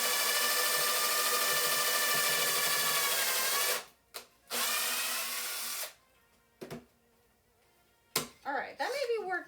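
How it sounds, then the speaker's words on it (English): A power drill whirs loudly at steady speed for a few seconds as it bores into wood clamped to a table, then cuts off, followed by shorter bursts of drilling and brief handling noises. "get the drill going up to speed before you like get close to the wood"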